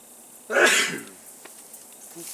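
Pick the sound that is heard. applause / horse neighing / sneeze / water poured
sneeze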